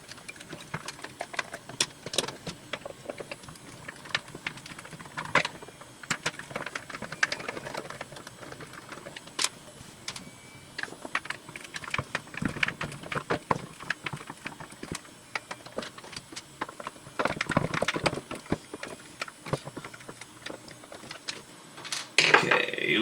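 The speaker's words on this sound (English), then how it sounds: "I gotta take these 6 screws out on the back here." Screws are backed out from the back of the control deck on a Star Wars Arcade1Up cabinet: a close run of short whirring driver bursts, clicks and scrapes spread unevenly over about twenty seconds.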